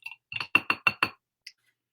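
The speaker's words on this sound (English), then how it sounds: "Here, let me just rinse my brush back off." A paint brush is rinsed in a glass water jar, giving a quick run of five or six light clinks and taps close by, followed by one faint final tap.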